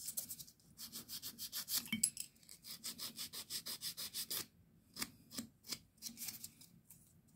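A hand file works over acrylic nails in quick, evenly spaced back-and-forth strokes, steady and close at first, then pausing and resuming with a few slower, separated rasps.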